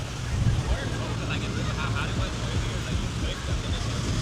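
Wind gusts across a beach, a constant low rumbling buffet with faint muffled voices in the background.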